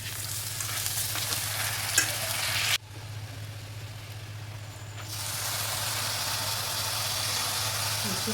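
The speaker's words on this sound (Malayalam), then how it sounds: "ഇനി നമുക്ക് ഇതിലേക്ക് ആവശ്യമുള്ള അരി ചേർത്ത് കൊടുക്കാം." Rice is tipped into a pot of biryani masala and stirred, giving a steady frying sizzle with scraping strokes, a brief quieter gap midway, then continuous stirring noise close by.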